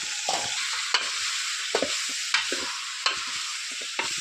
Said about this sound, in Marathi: चिकन टाकून घेतलेलं आहे आता थोडं आता त्याला हलवून घेऊया